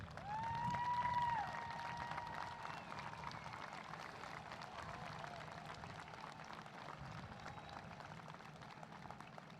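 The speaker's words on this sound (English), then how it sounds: "Would all parents and guardians please stand at this time while we applaud and honor you" Audience at a Southmoore High School 2021 commencement applauds the standing parents and guardians, a broad steady wash of clapping that swells early and then holds at moderate loudness, with a brief tone and crowd murmur over it.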